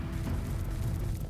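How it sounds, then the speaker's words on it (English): Fire squares landing on the reels of the Primal online slot game, a dense low rumbling boom with bursty thuds that fills the clip steadily and loudly, with no talk over it. "It made the sound of the fire squares landing,"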